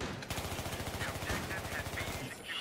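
Rapid automatic gunfire rattles steadily and loudly in Battlefield 3, an unbroken machine-gun burst filling the whole moment.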